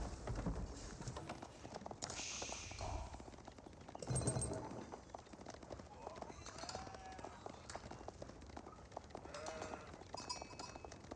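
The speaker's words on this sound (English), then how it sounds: "Sheep has been claimed." Sheep bleating in the real-time strategy game Age of Empires 4, short faint bleats mixed with galloping hooves and battle sounds under ongoing commentary.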